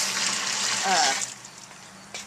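Hot water at 171 degrees pours into a mash tun on a home brew day, a close steady splashing stream that tapers off while a person talks.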